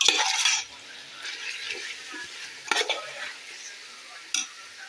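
Meat being stirred into tomato masala in a pan, with a clattering scrape of the spoon at first, then a soft sizzle broken by a few sharp metallic clinks.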